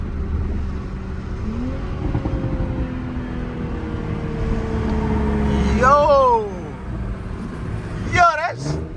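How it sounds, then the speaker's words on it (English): A loud supercharged car engine revving hard during a night drive, its pitch climbing in rising whining sweeps that build and drop off twice near the end, with voices beneath. "that car is too loud"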